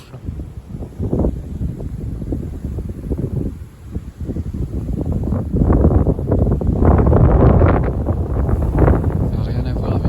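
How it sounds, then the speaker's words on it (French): A strong south wind gusting outdoors, rising and falling in loud rushing buffets against the microphone that build toward the end, with a voice speaking briefly. "le vent est bien sensible"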